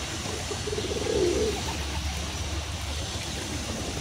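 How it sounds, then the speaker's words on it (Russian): A white pigeon gives a single soft coo, brief and fairly close, over a constant outdoor background hum. "Смотрите, какой голубь красивый, белый."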